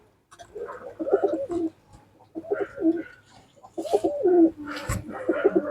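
Madrasi pigeons coo close by in repeated throaty, rolling phrases, several calls overlapping with brief pauses and light rustling and wing movement in the background.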